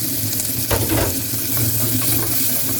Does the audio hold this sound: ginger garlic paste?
yes